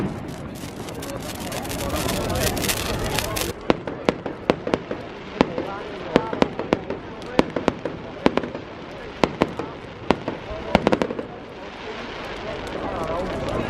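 River of Light fireworks over the River Mersey in Liverpool on Bonfire Night burst in a rapid barrage of sharp cracks and bangs, many close together, with people talking and cheering underneath.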